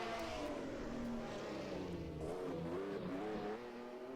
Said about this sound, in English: It's hard not to be sentimental about the Matras because the cars just sound so fantastic.